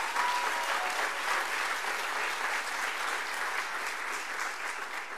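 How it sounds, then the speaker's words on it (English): A crowd claps steadily at an Army ROTC commissioning ceremony, dense and sustained, the applause holding at an even level before easing slightly at the end. "So that's worth a round of applause."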